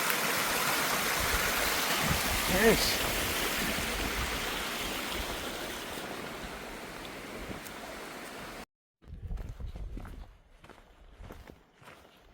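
Water pours steadily from half a copper pipe at a trail water source in the North Carolina woods, a continuous close splashing rush that cuts off abruptly near the end, leaving faint scattered drips and a brief spoken word.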